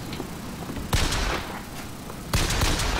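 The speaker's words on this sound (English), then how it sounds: "Shoot the zeppelin!" Video game gunfire aimed at a zeppelin, steady dense shooting with two sharper bursts standing out, loud and close, no talking.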